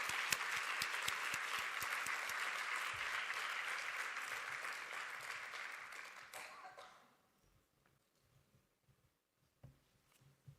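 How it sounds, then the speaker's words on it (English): Warm audience applause welcoming speakers onto the stage at a German business event, a steady dense roar of clapping for about seven seconds that fades out into near silence with a few faint stray sounds. "Please give a warm welcome applause"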